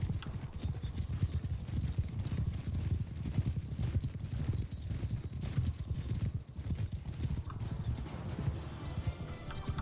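Horse hooves pound in a rapid, continuous gallop with a low rumble underneath, steady and fairly close, with a whinny faintly mixed in, in the video game Mount & Blade II: Bannerlord.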